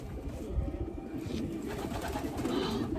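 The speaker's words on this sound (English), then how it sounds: "let me see if I can show you guys these pigeons" Soft, low cooing of several pigeons in a coop murmuring continuously close by, with a faint airy background hum.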